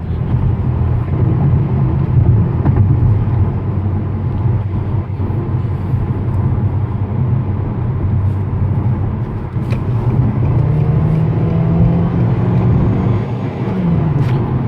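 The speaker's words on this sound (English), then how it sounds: "You can hear the as the turbo spools" A 2015 Nissan Juke Nismo RS with all-wheel drive accelerates from inside the cabin, its engine a steady low rumble that rises in pitch as the turbo spools and the automatic shifts, continuous and fairly loud without talk.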